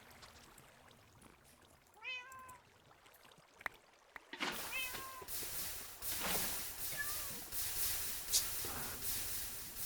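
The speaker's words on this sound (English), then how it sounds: "Oh, a bunch of my cats are alive." Cats meowing in the video game Minecraft, a few clear meows near at hand over a quiet background, then a louder stretch of game noise where fainter meows return.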